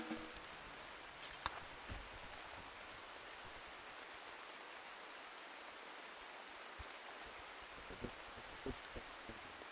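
Steady rain in the video game Rimworld, a soft even hiss of falling drops with occasional faint ticks and patters, low in level with no talking.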